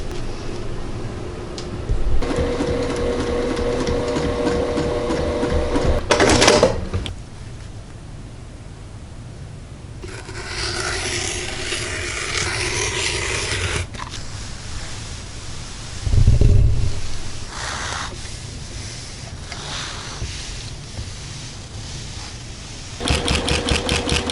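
A sewing machine stitching puff jackets for a matching dog and human set runs in long steady stretches of rapid mechanical whirring, pausing and restarting, with loud rushing noise in the middle section and no talk.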